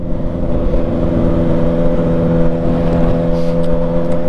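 A Kawasaki motorcycle engine drones steadily and loudly at a fairly even pitch during riding, with little clear rise or fall in revs.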